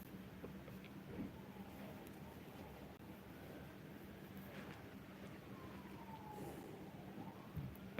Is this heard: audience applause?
no